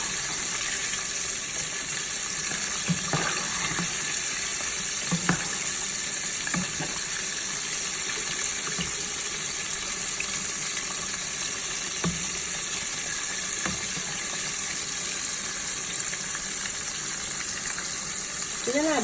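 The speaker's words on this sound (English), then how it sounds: "So they're not browning in oil, but they're still pretty much deep frying." Shrimp deep fry in hot oil with a constant bright sizzle, punctuated by a few soft clinks and bumps, while a person speaks occasionally nearby.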